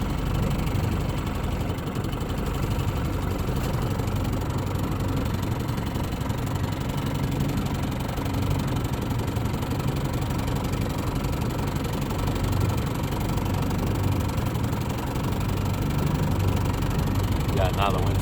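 A 1961 Mercury Model 200 or 1958 Mercury Mark 28 vintage 22hp outboard motor idles steadily throughout, a continuous low engine rumble with wind noise outdoors.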